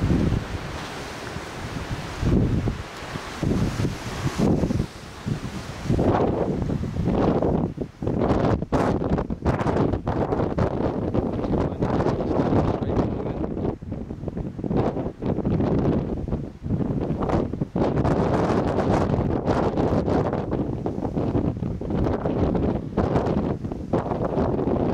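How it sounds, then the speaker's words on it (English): Strong wind roars around a G3TXQ hexbeam antenna in 100 km/h winds, a loud, continuous buffeting rush with gusty surges and heavy microphone wind noise throughout, no speech. "If I stand out, you'll be able to hear the wind noise a bit more."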